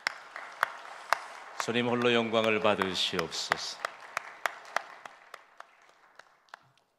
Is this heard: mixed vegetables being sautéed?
no